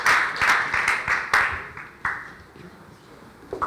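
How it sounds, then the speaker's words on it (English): Conference audience applauding a startup pitch presenter at a competition, a burst of claps that peaks early and fades over a few seconds, with sharp individual claps standing out in a hall. "An applause for"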